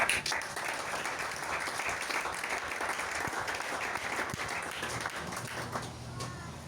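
A church congregation applauds to acclaim Jesus during a Sunday service, sustained dense clapping over the whole stretch, fairly even with a slight fade toward the end, a few voices faintly under it.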